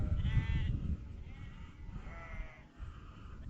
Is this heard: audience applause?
no